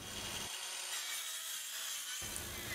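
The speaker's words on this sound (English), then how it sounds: "clamp them to the sawhorses and cross cut with a circular saw" A circular saw cross cutting pre-treated timber on sawhorses, a steady loud whine with a rasping cut through the wood, close and alone without speech.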